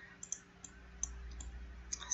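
Faint computer mouse clicks sound in a quiet room during crafting-software work, a few sharp ticks spaced irregularly over a low background hum, with no talking.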